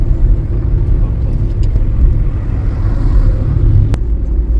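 Heavy road traffic near Mangaon, with a car engine rumbling close and loud throughout, a continuous low drone of vehicles on a congested highway, no voices.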